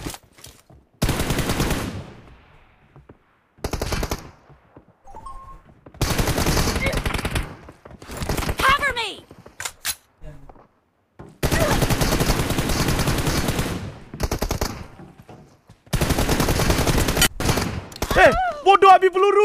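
Automatic gunfire in a video game team deathmatch, with long loud bursts of rapid shooting separated by silent gaps, several sustained volleys in a row and a few warbling effect sounds between them.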